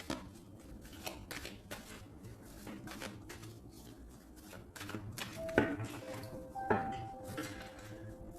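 Tarot cards being cut and handled during a reading: soft, irregular papery slaps and shuffling taps, quiet and close, with a couple of brighter chime-like clinks near the end.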